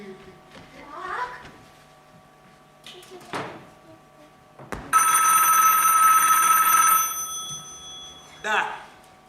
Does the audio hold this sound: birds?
no